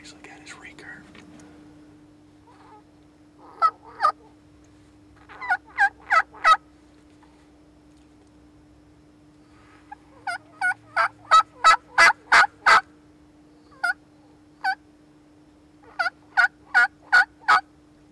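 A big wild turkey gobbler gobbles repeatedly at a decoy during a bowhunt, loud rattling bursts in clusters of three to seven calls separated by short pauses, fairly close, with a steady hum underneath.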